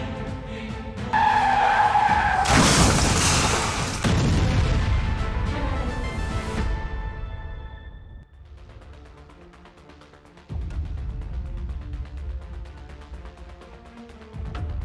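A car skids with squealing tires and then slams into other cars in a loud, chaotic crash burst, followed by lower rumbling road and engine noise that fades and then returns.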